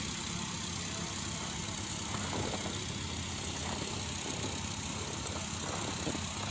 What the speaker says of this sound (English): I see sleds coming here, and I think they'll be riding by me here momentarily.